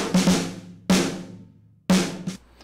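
A Decapitator distortion plugin on circuit A colours three close, loud percussive hits spaced about a second apart, each with a gritty, saturated ring that fades out.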